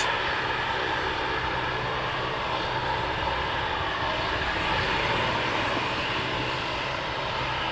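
Steady, loud aircraft engine roar at RAF Valley as four Beechcraft Texan T1 training planes take off, a continuous broadband drone with no talk over it.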